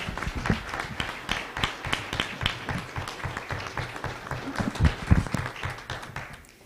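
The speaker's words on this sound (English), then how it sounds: "Let's give them a round of applause." An audience at a city council and school board candidates forum applauds, a moderate scatter of individual claps forming an uneven, sparse rhythm that carries on for several seconds before fading.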